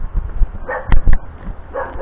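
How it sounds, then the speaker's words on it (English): Small dogs yapping near a construction site, a few sharp barks close by in a quick burst, with quieter yips trailing after. "Them little dogs you gotta watch for."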